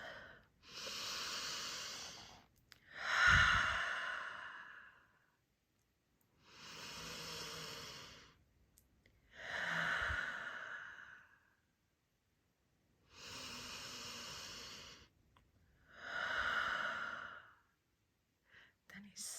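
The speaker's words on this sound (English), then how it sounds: "Piglet took 3 deep breaths." A voice performs Piglet's deep breaths as a story is read: six slow, audible inhale-and-exhale sighs, close and breathy, with quiet pauses between them.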